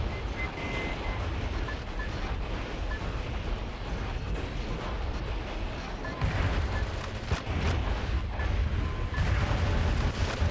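Bombs and mines go off in the game Metal Wolf Chaos XD, a dense continuous barrage of booming blasts and rumbling gunfire with heavier bursts in the latter half, loud and unrelenting.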